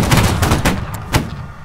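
Musket volley fire in a Holdfast line battle, a few loud, booming musket shots in close succession, sharp cracks with rolling tails, heard alone without talk.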